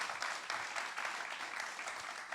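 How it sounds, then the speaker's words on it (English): Audience at a panel talk on decentralized and agentic finance claps for the speakers, a fairly faint, even patter of many hands heard from a distance, steady for the whole moment. "Can you give another round of applause for our speakers?"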